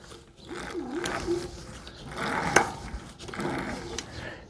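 E-bike geared hub motor spinning on the bench with its clutch clicking, a close mechanical whir broken by ratcheting clicks and a sharp snap midway, rising and falling in short bursts.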